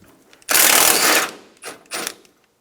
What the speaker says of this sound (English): Remove the top radiator bolts.